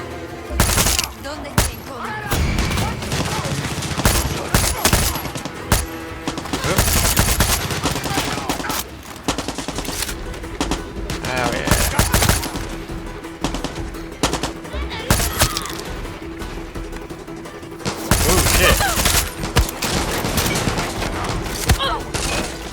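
Dense gunfire from the shooter game Far Cry 6 rattles almost continuously, with rapid automatic bursts and sharp single shots. The loudest volleys come near the start and again near the end.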